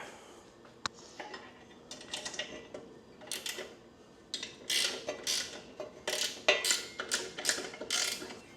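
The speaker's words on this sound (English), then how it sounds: "If you have a ratcheting box end it works fantastic." A ratcheting box end wrench tightens the mounting bolts of an XBull 13.5K winch on a Jeep. It gives quick close bursts of metallic ratchet clicks in irregular runs, growing louder toward the end.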